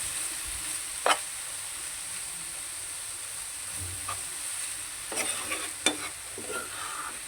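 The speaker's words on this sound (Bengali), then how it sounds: "নেড়ে চেড়ে ভালো করে মিক্স করে সিদ্ধ করে নেব।" Shredded cabbage and egg cook in a pan, a soft continuous sizzle with a few distinct stirring scrapes and clinks of the spatula, fairly quiet and close.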